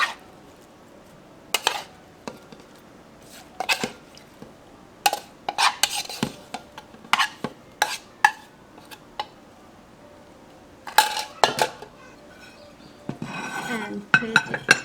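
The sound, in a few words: tofu larb salad mixed and put into serving bowl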